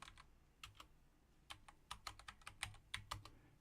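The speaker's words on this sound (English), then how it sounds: "you would think I would have been typing the name of the toolbar" Someone types a toolbar name on a computer keyboard, a quick irregular patter of crisp key clicks, close but fairly quiet, with no talking.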